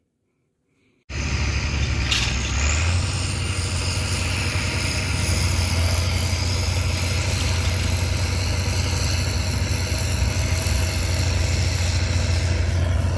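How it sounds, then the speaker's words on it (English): After a moment of silence, a tractor running a bale processor on a cattle farm starts up and runs steadily and loudly, a constant rumbling drone with whining overtones. "Using a bale processor is an easy way to feed cows."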